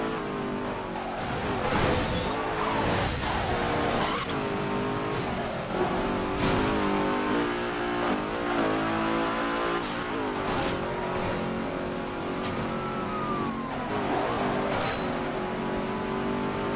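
A car engine roars and revs steadily throughout a street race in the video game Midnight Club 3: DUB Edition Remix, loud and continuous with brief surges in pitch.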